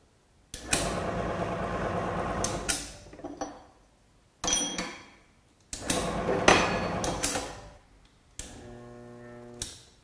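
A Falex wear test machine runs dry starts with the oil bath removed, loud grinding and rumbling bursts in several separate runs with abrupt stops between them, the last one ending in a steadier humming whine.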